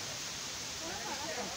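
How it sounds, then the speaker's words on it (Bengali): Waterfall on Ayodhya hill in Purulia, a faint, steady, distant rushing hiss with no other sound over it. "এই যে ঝর্ণার আওয়াজ হচ্ছে কেমন"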